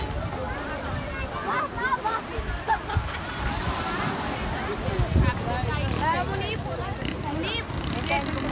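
Sea water washing in along the shore at Sea View, Karachi, a steady wash of surf with sloshing swells and wind, heard close under ongoing talk and crowd voices.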